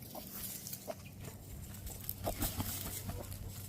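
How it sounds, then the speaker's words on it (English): A broody hen clucks in short, scattered bursts close by, with faint farmyard noise and a low hum underneath; no talking. "she's clucking, which means she's wanting to set on some eggs"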